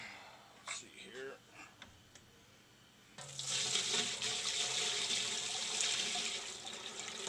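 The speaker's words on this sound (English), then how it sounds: "I'm going to go ahead and put water in it up to the bottom of the grill." Water is poured into a sawdust block press up to the bottom of the grill, a sudden loud, steady rushing splash that continues without break after some quiet handling noises.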